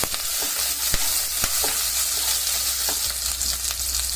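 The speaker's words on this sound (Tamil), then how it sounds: "அதோட மிளகு பச்சை மிளகாய் எல்லாத்தையும் லைட்டாக வதக்கி வச்சுருங்க" A steady sizzle of black pepper and green chilies frying in a hot pan, broken by occasional sharp scrapes and taps of stirring.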